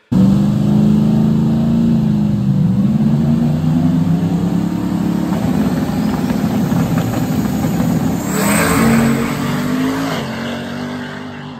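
A no-prep drag race car engine roars loudly and steadily at close range, its pitch shifting as it revs and accelerates, with a brief hissing burst near the end.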